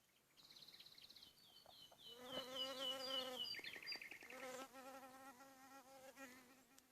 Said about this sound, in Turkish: arılar çiçekten çiçeğe